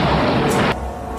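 A bomb explodes in a film, destroying an alligator in a drainage channel: a loud, dense burst of broadband blast rumble that cuts off abruptly after under a second, leaving a quieter decaying tail.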